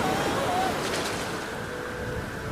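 Stormy sea with broad, rushing surf and wind noise sustained throughout, a fading tone briefly riding over the roar.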